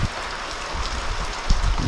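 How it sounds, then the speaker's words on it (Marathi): Rain falls in a Konkan village in Mandangad, a steady close hiss of drops hitting surfaces, even and unbroken, with a few heavier splats and no voices. "गावाकडचा पाऊस"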